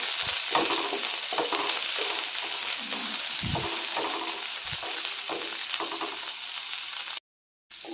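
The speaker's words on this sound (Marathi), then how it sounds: "गवारी चांगले लालसर होईपर्यंत भाजून घेऊया" Cluster beans roast with onion, curry leaves and garlic in a pan, giving a continuous close sizzle with occasional stirring thumps and scrapes. It cuts out briefly near the end, and no one speaks.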